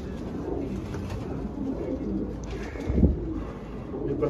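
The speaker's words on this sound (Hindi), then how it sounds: "ये सारे उड़ने वाले कबूतर है भाई" Flying-breed pigeons coo softly in low, throaty murmurs against a steady background hiss, with a slightly louder coo near the end.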